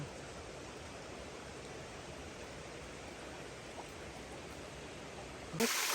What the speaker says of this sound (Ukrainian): І ще водоспад.